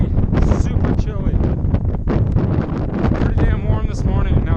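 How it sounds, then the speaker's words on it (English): Strong wind on the exposed summit of Mount Franklin in New Hampshire buffets the microphone in loud, rough gusts, a close, continuous roar that swells and dips. "Crazy windy, super chilly."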